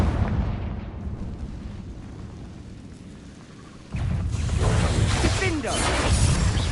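A Confringo fire spell bursts in the game Hogwarts Legacy as a deep, roaring explosion that swells suddenly and rumbles on loudly amid a wash of combat noise.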